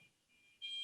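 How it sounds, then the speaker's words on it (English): A home fire alarm sounds as a thin, steady high-pitched tone heard faintly from some distance, growing brighter and louder partway through, with no talk over it. "That's my fire alarm."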